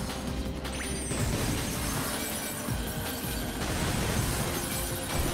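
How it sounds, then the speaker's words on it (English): A stock glass-shattering effect plays in the video game Sonic 06, a loud bright crash of breaking glass that spills into a long crackling rush of debris over game noise. "I love this, like, stock glass shattering noise."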